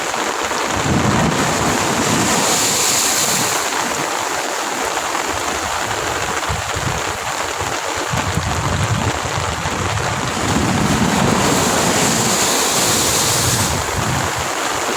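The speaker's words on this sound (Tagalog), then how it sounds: "Lalakihang alon." Heavy sea surf on Manila Bay roars continuously, with large waves crashing and rolling in a broad, loud wash and strong wind noise throughout.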